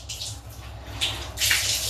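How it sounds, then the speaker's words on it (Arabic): Water runs from a bathtub tap, a soft continuous rush that swells louder in bursts, with no voices over it. "لازم تعرفوا ان انا فتحت البانيو علشان اخد شويه ميه"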